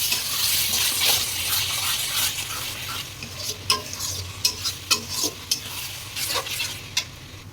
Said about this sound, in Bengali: এবারে একটু মশলাটা কষিয়ে নেবো যতক্ষণ না তেল ছাড়ছে